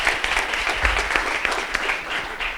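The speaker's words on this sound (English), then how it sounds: "Round of applause for all of you." A room of attendees at a community housing convening claps for themselves, a full, steady burst of applause holding at an even level from start to finish with no talk over it.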